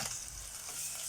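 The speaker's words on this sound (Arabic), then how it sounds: "اديناهم يا حبايبي تشويحة كده البصلة" Onion with chicken liver and gizzards being stirred and tossed in a hot pan, a steady close sizzle with soft scraping of the spoon, no talk.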